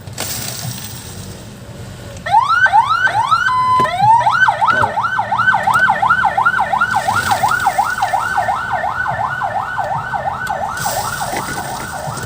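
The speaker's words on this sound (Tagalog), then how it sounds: "May dumaan na ambulansya." An ambulance siren wails loudly nearby, its rising and falling yelps repeating steadily over traffic rumble, then slowly easing as it moves past.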